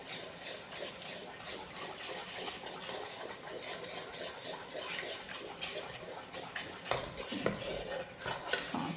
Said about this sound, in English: And now just stir this in. And this you have to stir constantly.